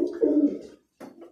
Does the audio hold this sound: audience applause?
no